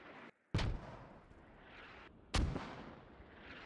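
Mortar rounds land in the game Squad as two heavy booming impacts, each a sudden loud blast with a rumbling tail, separated by a couple of seconds of low ambient noise.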